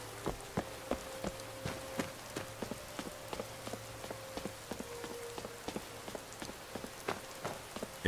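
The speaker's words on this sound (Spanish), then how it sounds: "Como llueve, ¿eh? No deja de llover." Steady rain falls in Skyrim, with soft patter and repeated light drop ticks and taps over a low ambient hum, and no voices.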